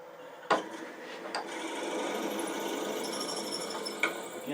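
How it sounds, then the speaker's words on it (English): Drill bit boring into dry wood on a lathe, a sustained rough grinding whine with a few sharp knocks, fairly close and steady, no talk. "Beginning to squeal, pull it out before I get in trouble."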